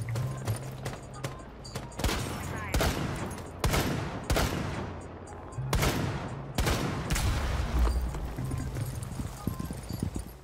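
Gunfire in Rainbow Six Siege crackles in irregular sharp shots and short bursts, some close and loud, others more distant, over a low rumbling background.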